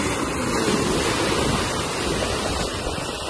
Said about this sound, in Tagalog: Malaking alon, no?